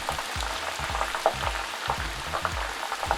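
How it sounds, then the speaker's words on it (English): Chips frying in hot oil for a fish and chips dish, a continuous bubbling sizzle with crackling pops and low intermittent thumps, fairly close and steady, no talking. "For the chips, let them fry 1 minute more."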